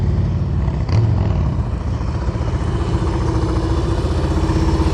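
A motorcycle on an advanced slow-speed riding practice course, its mid-pitched engine running steadily at low revs with a continuous rumble throughout, fairly close.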